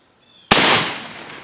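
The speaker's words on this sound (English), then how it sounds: "once I get the nipple back on, I just simply put a cap back on it and see if we can just fire it out." A percussion muzzleloader fires a cap to blow out a stuck ball, giving one sharp, loud near crack that decays into a short rumbling tail.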